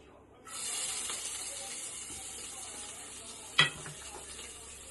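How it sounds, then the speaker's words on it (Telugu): Chopped onion dropped into a little hot oil for mutton pulao: a faint sizzle starts abruptly and hisses steadily, with one brief louder scrape or clatter partway through, quiet and close with no talk. "నెక్స్ట్ ఒక పెద్ద ఉల్లిపాయ తరుగు కట్ చేసుకొని ఇందులో వేయాలి."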